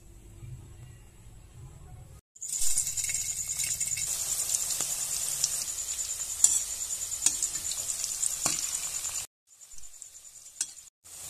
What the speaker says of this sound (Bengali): দেখো এইভাবে আমি গোল করে ভেজে নেব পকোড়াগুলো।